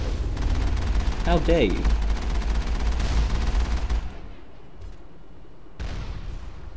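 An enemy weapon in the video game Mass Effect fires in a rapid, dense volley of shots over several seconds, then cuts off, while a voice speaks briefly over the noise.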